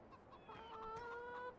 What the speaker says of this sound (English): This is where the chickens lay their eggs.